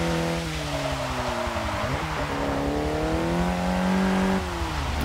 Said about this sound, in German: Geht auch so ein leichtes Driften über die Karre